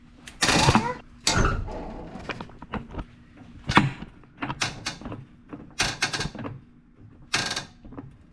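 A Ford Mustang's control arm creaks as the car is lifted on a jack, producing a series of short, irregular creaking and squeaking bursts close by, separated by brief quiet gaps.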